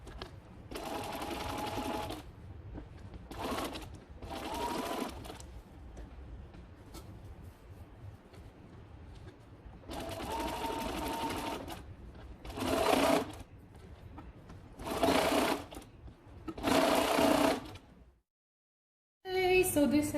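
A sewing machine stitches a three-quarter European hem on custom-made drapery fabric, running in several loud bursts of steady stitching separated by pauses, with brief handling in between.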